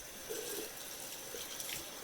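Warm water running from a tap while cleansing balm is rinsed off the face, a steady soft hiss and splash, continuous and fairly quiet, with no talking.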